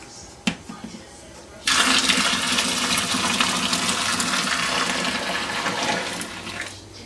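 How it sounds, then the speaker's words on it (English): Two gallons of boiling water pour into a homebrew mash tun during an APA brew day: a small knock, then a sudden heavy gushing rush that keeps going strong and steady for about five seconds before tapering slightly. "I'm going to take 2 gallons of boiling water, stick it in here."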